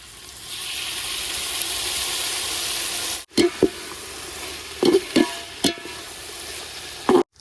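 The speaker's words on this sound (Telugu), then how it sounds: "ఇప్పుడు ఈ టమాటా సాస్ పోసుకుందాం" Tomato sauce going onto chicken 65 frying in a pan: a steady loud hiss of frying for a few seconds, then it drops away to quieter sizzling broken by several sharp clanks of a utensil stirring.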